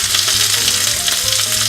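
A thick ribeye, about an inch and a half, sears in a cast iron pan with a loud, steady sizzle and crackle that runs without a break and sits close up.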